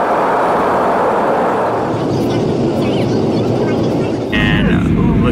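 Steady, loud airplane cabin roar during flight on the way to Salt Lake City, a dense broadband drone that holds constant, with a brief brighter whine entering near the end.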